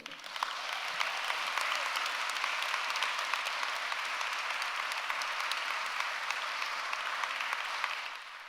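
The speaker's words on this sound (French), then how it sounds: "Un tonnerre d'applaudissements pour Julie Lombé." Sustained applause from an audience, a dense, even clapping that holds steady for several seconds before tapering slightly.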